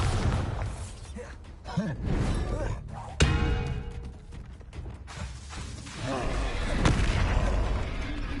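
Bombarda explosion spell cast in the video game Hogwarts Legacy, with sharp booming blasts around the third and seventh seconds over a busy bed of combat effects and rumble.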